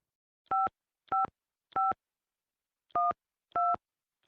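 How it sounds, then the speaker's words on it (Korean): Touch-tone telephone keypad dialing a number on an office phone, six crisp evenly paced DTMF beeps with a short pause after the third, close and clear with no talk. "사장님이 잠깐 나가셨는데 제가 전화해 볼게요."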